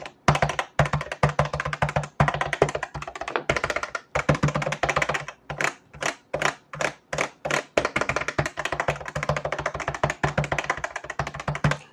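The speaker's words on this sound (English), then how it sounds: "So these are the MX Extreme switches when you're hitting the button." MX Extreme switches on a Geonworks Raptor keyboard are pressed rapidly, giving dense, crisp, close clacks. The keystrokes come in irregular bursts and steady runs of typing, with no talk over them.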